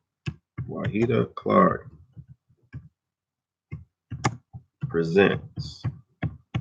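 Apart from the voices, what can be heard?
tapping to type on a touchscreen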